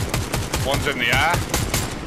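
Rapid, evenly spaced gunfire bursts from a weapon in a video game, loud and close, mixed with whooshing effects and other in-game sounds.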